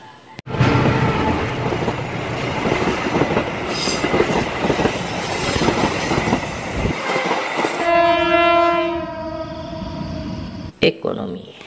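KRL commuter train passing close by in Indonesia, a loud continuous rumble of wheels and carriages followed by a long, strong horn blast near the end.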